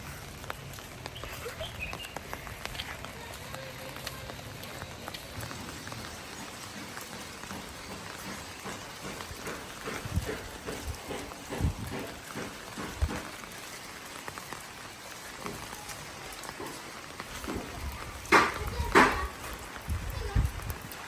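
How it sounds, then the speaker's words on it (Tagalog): Steady rain in Equatorial Guinea patters on surfaces throughout, with scattered louder drips and occasional voices in the background. "Tapos maulan pa."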